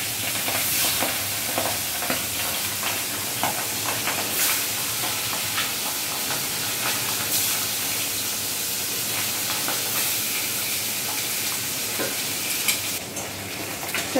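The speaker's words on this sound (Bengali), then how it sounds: "বাকি যে টুকরোগুলো আছে সেগুলো তেলে দিয়ে আবার ভালোভাবে ভাজতে হবে।" Pieces of fish head fry in hot oil, giving a continuous close sizzle and crackle with occasional stirring scrapes throughout.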